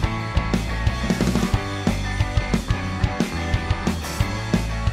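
A full rock-style song mix with drums and guitars, kick, snare and tom hits driving a steady beat under dense sustained guitar chords, played loud with no voices.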